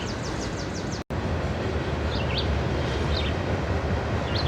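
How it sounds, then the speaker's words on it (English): Distant train rumbling past in the quiet morning near a historic cemetery, a steady broad low roar that fills the whole clip, with faint bird chirps rising above it. "As we hear the train rumble through in the distance"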